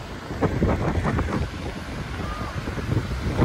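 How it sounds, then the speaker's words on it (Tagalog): Heavy wind at Takakkaw Falls, British Columbia, rumbles and buffets the microphone in a constant loud roar, with gusts rising and falling and no voices. "Mahangin. Mahangin siya."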